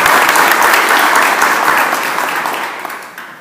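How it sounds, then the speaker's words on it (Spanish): Loud audience applause at a Conservative Party political rally, a thick wash of clapping from a large crowd that stays strong before easing off slightly at the end. "quiero pedir un aplauso más"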